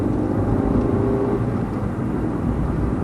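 Fiat 500 accelerating on the road, a steady, loud engine and road drone heard from inside the car, holding even throughout with no voices.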